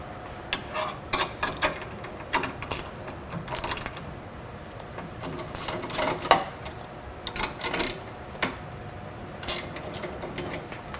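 Pair of 13mm wrenches loosening bolts on battery module bus bar connections, producing scattered metallic clicks and ratcheting taps at irregular intervals, close and fairly quiet.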